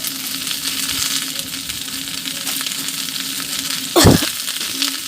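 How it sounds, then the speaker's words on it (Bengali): Okra frying in a little oil over a low gas flame, a soft steady sizzle with stirring, broken near the end by one loud metallic clatter of the utensil against the pan. "ঠিক এরকম পর্যায়ে বারবার আমরা নাড়তে থাকবো এবং গ্যাসটা সিমে রাখবো"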